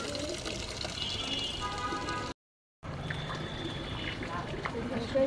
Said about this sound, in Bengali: সব গাছে পানি দিতে হবে।